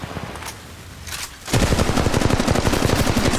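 In an Apex Legends Mobile firefight, a few scattered distant shots give way to a sudden, sustained burst of loud, rapid automatic fire that keeps hammering to the end.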